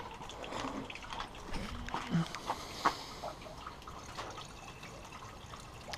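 Coolant poured into the cooling system of a salvaged Corsa VXR Nurburgring Edition, a soft trickle and gurgle of liquid with a few drips and splashes, fairly quiet and close.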